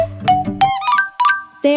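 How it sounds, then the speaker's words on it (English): A rubber duck toy squeaks in a children's nursery song, giving several bright, high-pitched squeezes close by, mixed in with the sung melody. "Now squeak your rubber ducky."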